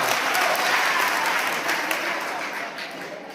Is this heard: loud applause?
yes